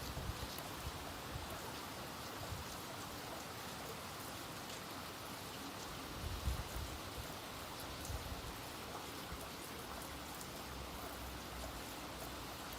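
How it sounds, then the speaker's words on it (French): Steady rain hisses evenly during storm Patricia, a faint, continuous wash of falling water with no break and no voices. "la pluie commence à se calmer"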